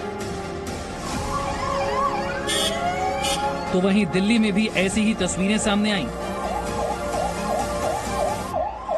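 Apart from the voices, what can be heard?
ambulance sirens at night at LNJP hospital in Delhi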